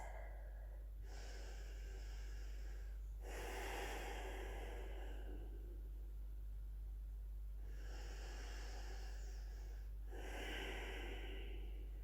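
Slow, deep breathing by a person lying face down on a yoga mat in a rested prone pose. Long inhales and exhales alternate close and quiet, with airy hiss and no talking.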